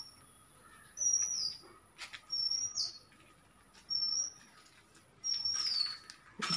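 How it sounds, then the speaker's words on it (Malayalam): Birds chirp in a leafy garden with neem trees after the rains. Four clear, whistled calls repeat at roughly even intervals over a faint steady background, with no talking. "കിളികളുടെ നല്ല മേള അന്നാൻ്റെ സൗണ്ട്."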